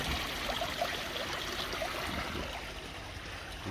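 Water trickles faintly from the overflow hole of a koi pond filter, a soft continuous babble and splash heard close against low outdoor background.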